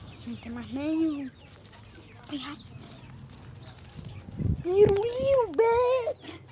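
Chicks and hens cluck and chirp in short, rising calls spaced through the scene, fairly close, while someone talks between them.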